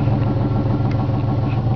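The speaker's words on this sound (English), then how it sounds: "black throaty exhaust" A lifted black 1998 Ford F-150 XLT off-road edition with a 5.4L V8 and black throaty exhaust idles steadily, a deep continuous rumble close by with no voices.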